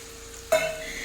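Water poured into a hot pan of frying winter vegetables and dried fish bursts into a sudden loud sizzle that settles into a steady hiss, close and alone.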